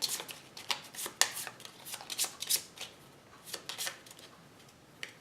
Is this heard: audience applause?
no